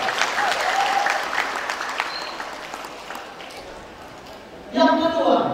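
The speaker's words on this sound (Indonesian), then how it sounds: "Tepuk tangan dulu untuk semua guru" A crowd at an anniversary gathering of private madrasah teachers in Dumai claps in a dense, steady round for the teachers, easing off before a louder burst returns near the end, with voices mixed into the clapping.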